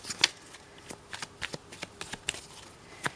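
Tarot cards shuffled by hand in a series of crisp riffling bursts and soft slaps, close and fairly quiet, with no talking.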